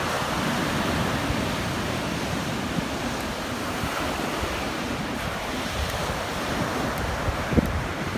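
Surf at Sioro beach washes in as a steady, broad roar of waves mixed with wind noise on the microphone, continuous and fairly loud throughout with no voices.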